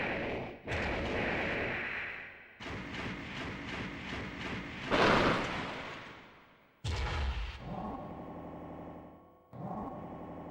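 Rockets launching and detonating in Armored Core, in loud bursts with rumbling booms and metallic clatter; the blasts come in several separate volleys with short gaps between them.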